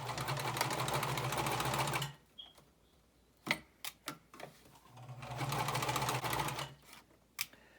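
A sewing machine stitching the back of a pocket runs in two steady bursts, with a pause between them holding a few clicks and knocks, close and fairly quiet.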